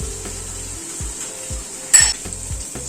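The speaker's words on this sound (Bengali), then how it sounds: "প্রথমে আলুটা ছেড়ে দিচ্ছি। আলুটা প্রথমে একটু হালকা করে ভেজে নেব।" Potato pieces fry lightly in oil in a pan, a constant close hiss broken by repeated utensil scrapes and one brief louder clatter.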